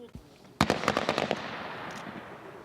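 Combat weapons fire during military training on an obstacle course, a rapid burst of about eight sharp close shots after an isolated earlier crack, then fading echo.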